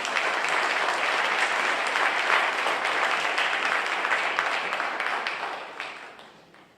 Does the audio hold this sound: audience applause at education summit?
yes